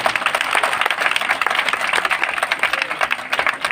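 Congregation clapping hands together during a big healing prayer gathering in Amritsar, Punjab, a dense, steady wash of many hands heard throughout at moderate loudness, with no one talking over it.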